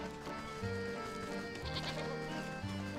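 Synthetic-sounding sheep bleats from the video game Wytchwood repeat over a steady bed of game music, several short bleats spaced across the clip.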